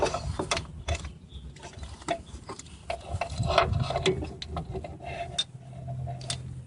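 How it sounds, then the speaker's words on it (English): A 3/8 ratchet with an adapter turns on a spark plug in the engine bay of a 2004 Mazda RX8, making steady close clicking from the pawl in repeated strokes with brief pauses between them. "I use a 3/8 ratchet."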